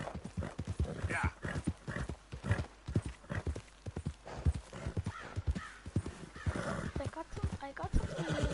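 Horse in the video game Red Dead Redemption 2: steady rhythmic clip-clop of hooves throughout, with a neigh partway through, heard alongside game sounds.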